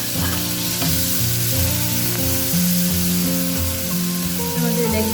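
Two small tomatoes dropped into spices frying in a pan for tomato dosa, sizzling steadily and close, with stirring and low tonal hum running underneath and no speech.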